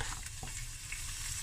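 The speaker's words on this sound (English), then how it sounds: "I want to fry it now" Red onion, garlic slivers and sweet piquant peppers frying in a pan, a dense continuous hiss of sizzling oil with a brief clack near the start, close and unaccompanied by speech.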